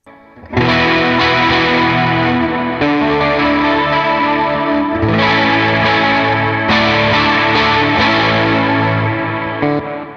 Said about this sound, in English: I just went with the 70s chorus. So here's clean. And then here's chorus.